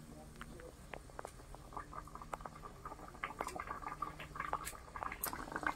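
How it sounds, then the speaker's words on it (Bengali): Katla fish kalia gravy bubbling in a pot in a Sundarbans village kitchen, a soft steady simmer with scattered pops and crackles, fairly close, with a voice talking at moments. "ঝোলটা ফুটে গেছে"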